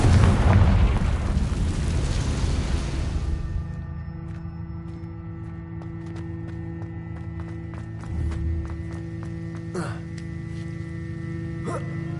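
Confringo fire spell from Hogwarts Legacy detonates as a loud, broad explosive boom at the start, then fades into a lower rumbling game ambience with a few soft pops and clicks afterward.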